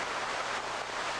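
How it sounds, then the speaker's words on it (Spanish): Heavy rain pours over lowland jungle as a dense, steady hiss without breaks, even and enveloping throughout. "La lluvia es uno de los momentos más emocionantes en la selva baja."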